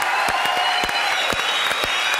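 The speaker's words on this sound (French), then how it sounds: "Applaudissements, mesdames, pour Charlie et Lulu." A studio audience of a French television game show applauds for two guests, a dense wash of many clapping hands with a few sharper claps standing out, steady and close throughout.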